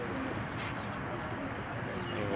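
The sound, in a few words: pigeons cooing on a rooftop loft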